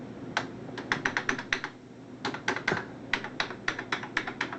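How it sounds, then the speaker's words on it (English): Keys are pressed on the worn HP 85 computer keyboard, some sticky or missing, in quick bursts of sharp clicking taps with brief pauses, close and clear and with no talking. "keyboard on this one's pretty much pooched, but oh, most of the keys work all right"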